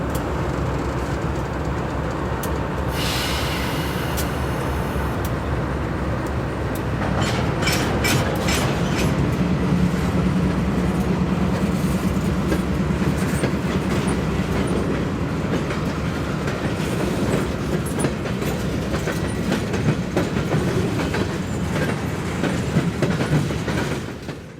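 A diesel locomotive pulls a freight train slowly through a Nashville & Eastern rail yard, wheels clicking and clanking over rail joints, with metallic squeals and a low steady rumble throughout.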